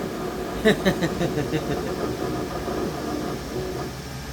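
A HAAS VF-4 5-axis CNC machining center running, a steady mechanical hum with a few sharp clicks and knocks early on, moderately loud and continuous, no talking.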